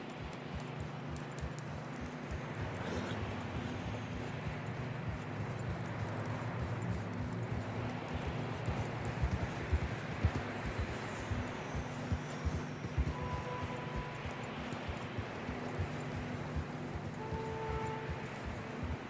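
Horse hooves clip-clop through fresh snow in the Red Dead Redemption 2 prologue, a steady walking rhythm of soft muffled steps under a constant wind-like background, without talk.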